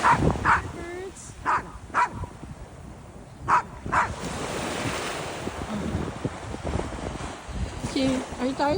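A dog on a windy seashore gives a handful of sharp barks, spaced out over steady surf and wind rumble.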